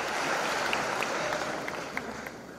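An audience applauds at a Marathi public talk on Shivaji Maharaj's management, a steady wash of many hands clapping together at moderate distance that holds evenly throughout with no voices over it.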